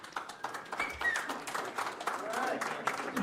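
Scattered audience members clap in a committee meeting room, with uneven claps and some voices and movement mixed in.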